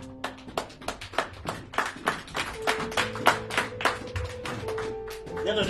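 A church congregation claps to acclaim the Lord in a steady rhythmic beat, with many hands striking together at regular intervals and growing slightly fuller as it goes on, while a sustained tone sounds underneath.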